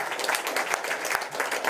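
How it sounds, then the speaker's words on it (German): Audience applause at a corporate inclusion dialogue event in Upper Austria, a dense, steady wash of many hands clapping filling the room without letup. "Das ist sehr aufmerksam bezüglich dem Applaus"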